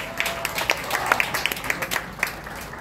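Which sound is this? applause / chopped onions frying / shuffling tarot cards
applause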